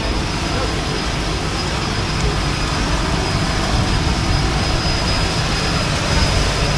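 A skydiving plane's engine at a Tennessee drop zone gives a steady, loud, broadband roar that drones on evenly from start to finish.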